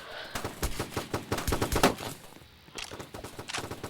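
Shotgun gunfire in a first-person shooter game, a rapid run of loud, sharp blasts packed close together with a brief lull before a few more shots resume near the end.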